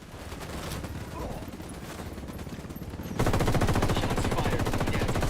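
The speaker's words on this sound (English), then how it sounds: "Shots fired." Automatic gunfire in Ghost Recon Wildlands, a rapid rattle of shots at first somewhat distant and under low voices, then jumping to a loud, close, sustained machine-gun burst.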